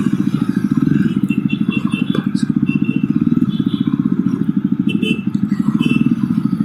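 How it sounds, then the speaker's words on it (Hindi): Jawa Perak single-seater motorcycle with a deep, steady thumping exhaust note, a fast continuous pulse running throughout at close range with faint clatter above. "इतना अच्छा एग्जॉस्ट नोट इस बाइक का है"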